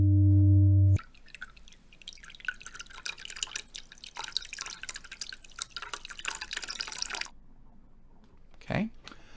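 Water drips and trickles in a dense, irregular patter for several seconds after an opening low hum, ending in a single heavier splash or plop.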